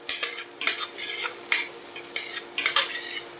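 Garlic and hotdog pieces fry in a pan with a steady, moderate sizzle, broken by repeated short scraping bursts as a utensil stirs the food every half second or so.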